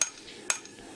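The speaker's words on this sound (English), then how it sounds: "That's my Japanese hammer, the first hammer that I made." Sharp metallic strikes of a hand-made Japanese hammer forging a Bowie-style knife blade, three crisp blows about half a second apart, close and alone.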